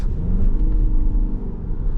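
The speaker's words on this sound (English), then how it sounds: "the car has got very nice pronounced sound" A 2026 Toyota RAV4 in sport mode, driven at night, accelerates with a steady low engine rumble and drone heard from inside the cabin, rising slightly and holding without a break.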